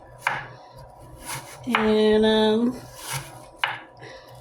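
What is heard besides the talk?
knife chopping scallion onions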